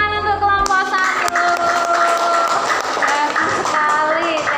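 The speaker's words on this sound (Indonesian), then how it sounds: "beri tepuk tangan untuk kelompok 1" A school class claps steadily after a brief tonal jingle, with children's voices chattering over the applause.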